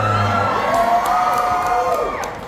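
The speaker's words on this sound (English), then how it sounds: "Why are you cheering?" A concert-hall crowd at a Black Veil Brides Q&A session at House of Blues Myrtle Beach whoops and cheers, shrill voices rising over a loud, sustained roar that tapers off near the end.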